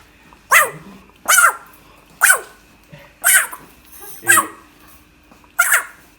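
A small dog barking in sharp, separate yips, six barks spaced about a second apart, close and loud against a quiet background, with no talking.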